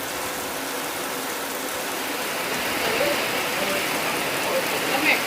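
Rain falls steadily in a mountain setting at Ang Khang, a dense, even hiss of drops that swells slightly toward the end, with no voices over it.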